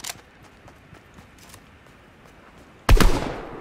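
A single loud gunshot rings out near the end in a video game, following a stretch of faint background game noise with a few soft clicks.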